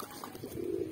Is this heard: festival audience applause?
no